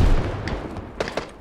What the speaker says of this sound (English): Was that a grenade?